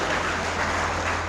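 Applause at a school award ceremony: a steady, dense wash of clapping from a crowd, even in loudness for its short length, with a low hum underneath.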